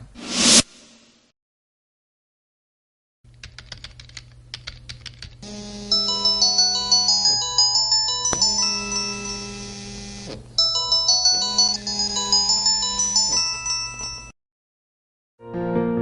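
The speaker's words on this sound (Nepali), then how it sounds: "छंगे फोन वलगा" A phone ringtone plays a bright electronic melody in two phrases with a short break between them, preceded by soft tapping and clicks, loud and close with no talking.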